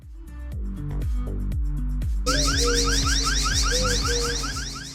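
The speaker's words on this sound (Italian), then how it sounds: "se c'è qualche movimento strano facciamo partire l'allarme" A home security camera's triggered alarm blares up close: rapid pulsing electronic beeps give way to a loud, fast warbling siren that repeats steadily, with no talk.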